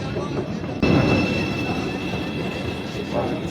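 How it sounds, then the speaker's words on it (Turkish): An Istanbul metro train rumbles steadily along the track, a loud, continuous mechanical roar with a faint high whine, heard from close by. "Metroya bak."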